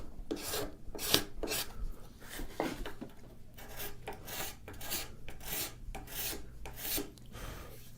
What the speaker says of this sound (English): Let's just do the last smoothing with the card scraper.